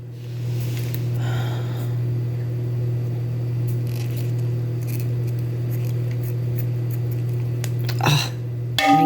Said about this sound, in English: this is not my best scissors, but maybe they'll work